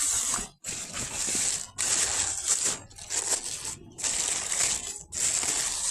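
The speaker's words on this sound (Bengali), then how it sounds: "যেহেতু এটা পাউডার জাতীয় সার, তাই খুব সুন্দরভাবে মিশিয়ে নিতে হবে" Powdered calcium fertilizer, Green Cal from Square Pharmaceuticals, is mixed by hand in a large batch, producing bursts of gritty crunching and hissing rustles separated by brief pauses, close and repetitive.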